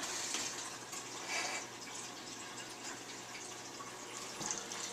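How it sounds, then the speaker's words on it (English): Tap water runs steadily into a cooking pot in a home kitchen as it fills to boil hot dogs, a constant close hiss and splash with faint drips and no talking. "The water is still filling up."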